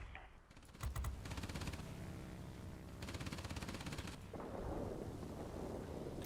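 Rapid machine gun bursts from aircraft in World of Warplanes, flying a P-61 Black Widow, rattle in dense continuous volleys over a steady roaring background, loud and close throughout with brief pauses between bursts.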